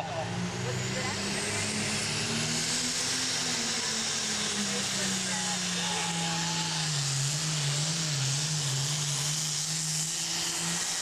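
International super farm tractor engine at a tractor pull in Mt. Vernon, Ohio, a loud, continuous roar whose pitch slowly sags as it works, with a voice faintly under it.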